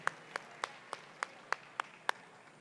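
Eight sparse, evenly spaced claps ring out faintly at a distance, a thin smattering of applause for junior category winners at a 10K fun run presentation.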